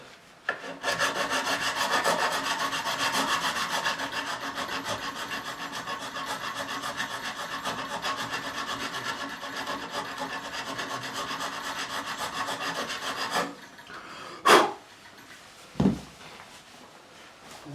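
Steady rubbing and filing as the nut is tidied up on a Harley Benton RB-600 Rickenbacker-replica bass, continuous close scraping for about thirteen seconds, then stopping, followed by a couple of sharp knocks.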